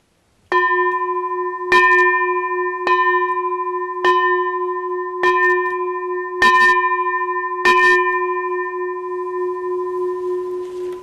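A ceremonial bell is rung seven times at a slow, steady pace, each loud, clear strike sustaining a pure resonant tone that overlaps the next and fades away at the end.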